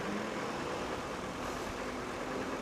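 A stone-carrying lorry passes on a road as a steady, loud broadband engine roar and road rumble that holds through the moment without any voices.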